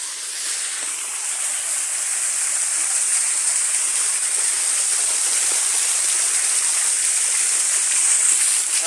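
A waterfall with low water in the dry season pours in a continuous, even rush of falling water that stays steady and fairly loud for the whole stretch, with no speech.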